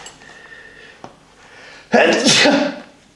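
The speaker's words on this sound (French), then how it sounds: "Je m'excuse, je vais devoir éternuer." A single loud, close sneeze bursts out suddenly, a short sharp blast trailing off after about a second, preceded by faint room noise.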